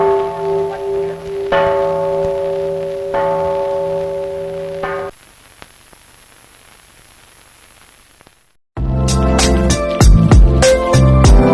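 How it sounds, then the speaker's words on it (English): The Japanese UN Peace Bell rings with sustained metallic tones, two or three struck notes decaying over several seconds before a quiet stretch, then a loud burst of unrelated music cuts in. "Japanese UN Peace Bell"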